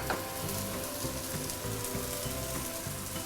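Spices, ginger and garlic stir-fry in a hot pan for braised pork belly, giving a loud, steady sizzle with rhythmic scraping strokes of stirring close by and no talking.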